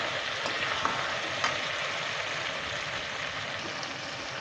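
Chicken curry frying and being stirred in a pan, a steady close sizzle with faint spoon clicks and scrapes, no talking.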